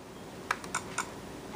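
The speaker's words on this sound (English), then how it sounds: "then type in here, up in here. All right, type it. Type Red Hulk" A few quiet clicks of typing on a computer keyboard, three or four spaced keystrokes close by, alone with no talk.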